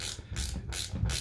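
A ratchet wrench tightens an overly long bolt during a repair, giving a rapid run of close metallic clicks in three quick bursts, with no talk over it.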